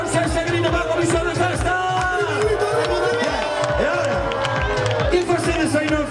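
Crowd at an outdoor orchestra concert in Vedra clapping and shouting over loud ongoing band music, a dense steady roar of applause and cheers mixed with the music.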